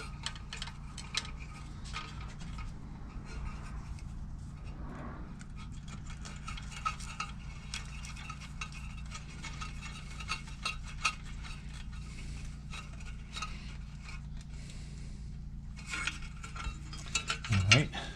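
A wire nut is twisted onto light fixture wires while swapping a metal halide fixture for an LED bulb, giving faint, repeated small clicks and scrapes over a low hum throughout, with no talk.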